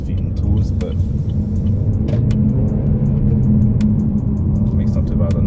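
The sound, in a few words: 2019 Vauxhall Insignia 1.5T petrol engine accelerating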